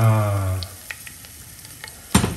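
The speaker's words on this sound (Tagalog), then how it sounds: "Mainit na yung olive oil. Ilalagay ko na ang bawang" Garlic goes into hot olive oil in a pot for a crab sotanghon soup and sizzles softly. A brief tonal sound comes first, and a sharp clatter of a utensil or pan comes near the end.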